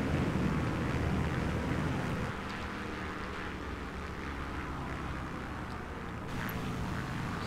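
Continuous engine drone and rumble from a Beechcraft Bonanza G36 rolling along the runway at New Smyrna Beach Airport in Microsoft Flight Simulator, steady and fairly loud, with a slight drop in level partway through and no voices.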